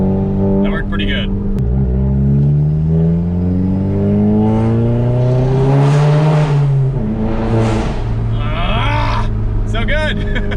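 A Volkswagen Golf GTI Mk7 accelerates hard from a standstill toward 100 km/h, its engine drone climbing in pitch through the gears with a loud, close, continuous roar that dips briefly at each shift.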